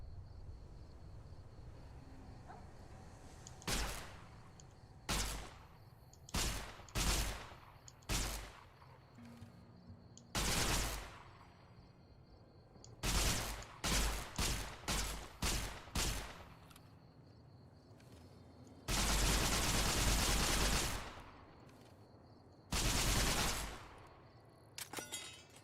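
Gunfire in the video game Fallout New Vegas rings out as a series of loud, sharp shots, some single and some in rapid clusters, with a long sustained burst of automatic fire partway through.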